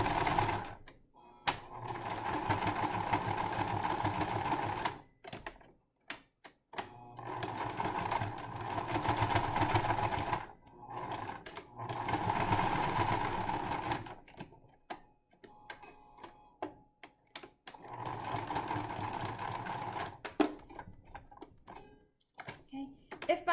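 A sewing machine stitches together the ends of a face cover's cord in several short bursts of quick stitching, separated by quiet pauses and softer handling noises.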